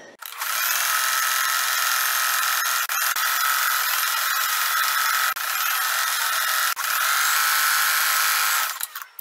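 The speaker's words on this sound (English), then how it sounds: "Now I'm going to a straight stitch and I'm just going to fold over once and stitch." A sewing machine runs a straight stitch along a folded-over hem on a man's shirt, giving a loud, close, steady whirring buzz that holds for about nine seconds with a few brief dips and no talking.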